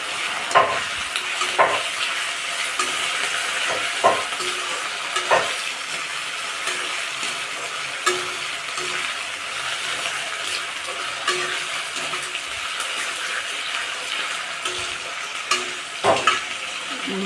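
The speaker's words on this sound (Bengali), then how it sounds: "আলু কটা ভেজে নেব।" Potato pieces fry in oil in a pan for a village-style Bengali dish, a continuous sizzle with periodic spatula scrapes and clinks against the pan, close and steady, with no talking.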